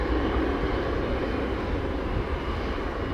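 An American Airlines jet at Montego Bay airport in Jamaica, moving toward runway 7, gives a steady, loud, close engine roar with broad rumbling noise throughout and no voices.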